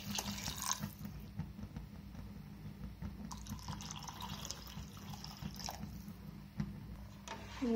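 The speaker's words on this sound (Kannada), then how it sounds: "ನೀರು ಹಾಕೋತೀನಿ ರೀ, ನೀರು ಸ್ವಲ್ಪ ಜಾಸ್ತಿ ಹಾಕೋಬೇಕು ರೀ," Water is poured into a pot of lentils for soup. It makes a soft, fairly faint trickling and splashing fill sound that continues steadily throughout.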